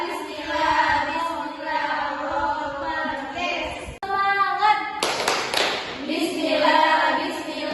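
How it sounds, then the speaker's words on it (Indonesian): A junior high class does a rhythmic cheer clap during an Islamic religious education lesson. Children's voices chant through it, and a burst of brisk, close clapping stands out near the end. "Oke, tepuk semangat."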